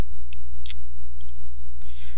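A computer mouse clicks several times during a Windows software install. The clicks are close, crisp and short, arriving in a small irregular cluster against a quiet low hum.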